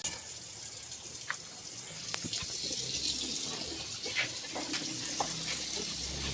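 Water runs steadily from a tap at weak pressure in a soft, continuous hiss, with a few faint clinks and drips over the flow.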